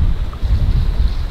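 Strong wind gusts buffet a sailboat under reduced sail on the way to an anchorage in Denmark, with a loud, steady rumbling roar of wind noise and wash of waves close around the hull.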